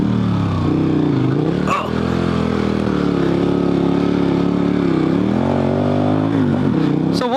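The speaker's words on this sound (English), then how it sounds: "my goal here is going to be to lay throttle down and basically do a U-turn here." Motorcycle on Heidenau K60 Scout 50/50 adventure tires revs hard and accelerates through a U-turn, a loud, close engine note rising and falling steadily throughout, with a brief voice exclaiming midway.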